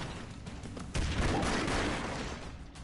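Gunfire in the Broforce video game bursts out as a dense, sustained volley of rapid shots and blasts, loud and continuous after a brief lead-in of scattered noise.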